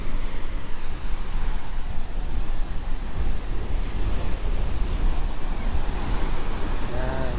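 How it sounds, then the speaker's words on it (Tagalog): Strong wind roars over steady crashing surf on an Ilocos beach, Philippines, a continuous loud rush of waves breaking close by with no pauses. "malakas pa rin yung hangin kaya maalon din siya"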